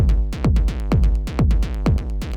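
A techno rumble kick runs through an amp, giving deep, distorted booming thumps in a steady four-on-the-floor pulse with a rumbling tail between hits, loud and up front.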